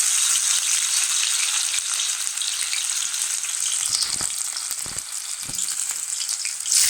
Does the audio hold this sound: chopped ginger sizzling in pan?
yes